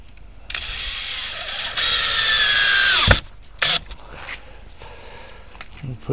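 Power drill driving screws into a wooden silk screen stretcher frame, with two sustained whirring runs, the second louder and ending in a sharp stop, followed by brief clicks and handling noises nearby.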